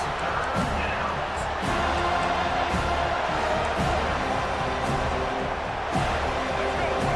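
Stadium crowd noise from an EA College Football game, Colorado at Florida State, a dense steady roar of fans cheering throughout with slight swells, under game commentary.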